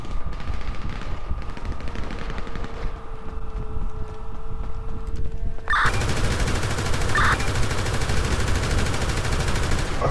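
Rapid gunfire from a GTA V robbery at a BR gas station, dense bursts of shots running continuously and loudly, growing heavier partway through with a sharp impact.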